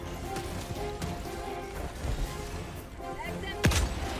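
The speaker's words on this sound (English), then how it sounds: "Let's shoot some bullets at it." Gunfire in Helldivers 2 against Automatons, scattered shots and impacts over a busy battle mix, with one sharp louder blast near the end and voices talking underneath.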